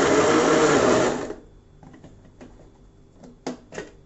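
An electric mixer beating flourless cake batter whirs loudly and steadily for about a second, then stops, leaving a few faint clicks and knocks.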